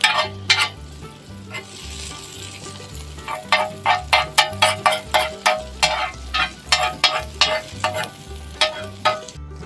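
Food sizzles steadily on a sadj griddle over an open fire, and a utensil scrapes and stirs it in a quick repeated rhythm, loud and close.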